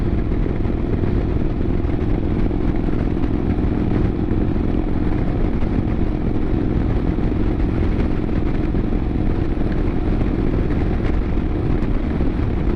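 Motorcycle engine exhaust while riding on a Great River Road run, a steady, continuous rumbling drone with wind noise that holds for the whole stretch without talk.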